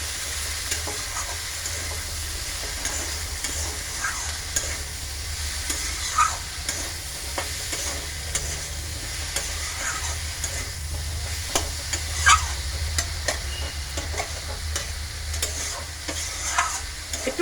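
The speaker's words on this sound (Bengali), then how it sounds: "একটু ভাজা ভাজা করবো মশলাটাকে" Ground spice paste (masala) for an okra curry being fried and stirred in a pan: a steady close sizzle with scraping stir strokes throughout, no voices.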